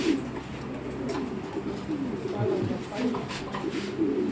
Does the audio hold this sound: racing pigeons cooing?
yes